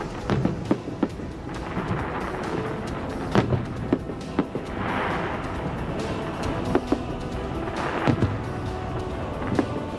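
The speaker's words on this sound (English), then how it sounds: "Fireworks rocketing high into the sky." Irregular booms and sharp cracking bursts echo across a steady low rumble, some louder pops standing out from a dense, distant background.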